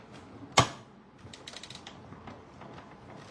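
Die cutting machine feeding cardstock through its rollers: one sharp clack, then a run of faint creaking and ratcheting mechanical clicks, close and fairly quiet, with no voices.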